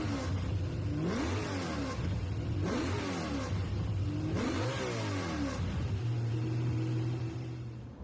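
A Citroen race car in a racing video game, driven at night between Armco barriers, revs hard through several rising gear pulls with shifts between them, then settles into a steady engine drone, loud and alone.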